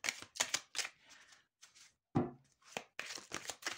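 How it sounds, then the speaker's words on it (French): A Lenormand Gilded Reverie card deck being shuffled by hand, a run of quick, close riffling and slapping bursts with brief pauses, alone without talk. "je vais de suite mélanger le jeu"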